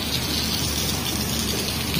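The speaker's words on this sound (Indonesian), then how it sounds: "Ini hujannya deras banget." Heavy night rain pours steadily at Tanjung Mas harbour in Semarang, a dense, loud, continuous hiss of drops on surfaces with no talking.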